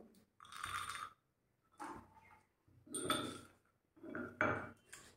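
Roasted almonds are pounded coarsely by hand for semolina kheer, heard as four separate bursts of hard clattering and grinding with short quiet gaps between them, close and fairly soft.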